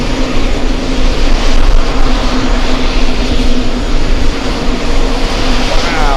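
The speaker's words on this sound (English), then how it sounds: "Let's go for the 2-for-1 special Etihad 1A350 and the 787." Etihad Airbus A350 and Boeing 787 jets at JFK airport produce a loud, steady roar of jet engines, continuous and close throughout, with a low engine hum underneath.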